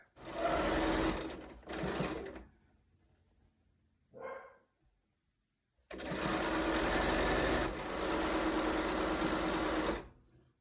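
A sewing machine stitches a pressed-flowers quilt block in loud, steady, rapid mechanical runs, stopping for a pause with a brief dog bark before a longer continuous stretch of stitching.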